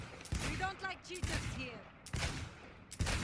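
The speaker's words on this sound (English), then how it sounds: "you can shoot quite quickly with the revolver" Revolver shots in Cyberpunk 2077 fired at a stadium shooting-range target, several sharp reports going off at an irregular but quick pace over loud game ambience and speech-like sound.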